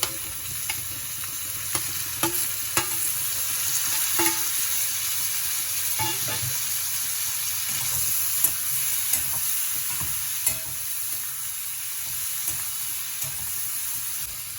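Chopped eggplant sizzles steadily as it fries in a pan, a constant close hiss broken by scattered clicks and taps of a stirring utensil, with no voices present.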